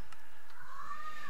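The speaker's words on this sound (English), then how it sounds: "Oh, that's the cat." A house cat gives a short, drawn-out meow, fairly faint and rising in pitch over about a second, heard alone.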